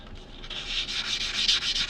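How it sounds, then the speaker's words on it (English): Scuffed edge of a quarter coin ring being sanded, a close, rhythmic rasping rub in repeated short strokes, steady and fairly loud with no talking. "I'm going to go ahead and sand that down and make it nice and shiny."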